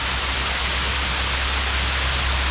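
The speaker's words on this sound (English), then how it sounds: "The Sai Yok waterfall." Sai Yok waterfall in the Thai jungle pouring over smooth rocks, a steady, dense rushing roar that stays constant throughout.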